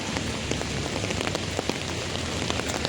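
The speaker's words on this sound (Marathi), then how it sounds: "खूप जोरजोरात पाऊस येतोय" Heavy rain in Mumbai falls in a dense, steady patter on hard surfaces, a constant hiss with scattered louder drops and no voices.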